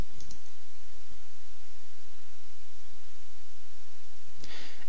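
A computer mouse clicks a couple of times, sharp and brief, spaced several seconds apart over a steady background hiss.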